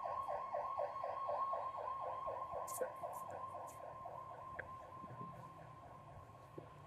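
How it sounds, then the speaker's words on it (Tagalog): A wailing siren cycles steadily up and down at moderate distance, continuous throughout, with faint street noise and a few brief clicks underneath. "Ayan na naman ang ambulansya."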